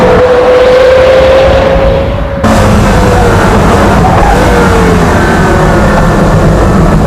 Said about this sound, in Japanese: ガツンと元気よくアクセル踏んでみたんだけども、すぐ後ろが流れる